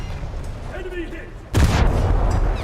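A loud, booming volley of ship guns in a naval combat video game erupts midway and rumbles on, following a quieter stretch with a voice talking.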